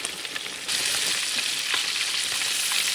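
Southern-style chicken pieces frying in oil, starting as a quieter sizzle that jumps after a moment into a loud, steady crackling hiss close by.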